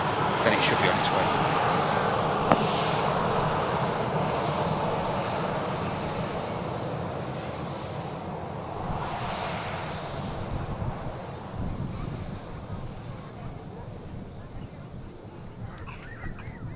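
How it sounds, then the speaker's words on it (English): Airliner engines spool up for departure on the runway at Manchester Airport, a steady broad roar that holds loud and continuous, with a swell partway through, while someone talks over it. "Aircraft just beginning to spool up now."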